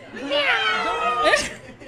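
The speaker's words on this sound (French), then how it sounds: "Et le chat a miaulé encore." A cat meows in a long, wavering, drawn-out call, followed by a second rising cry, with a crowd murmuring faintly behind it.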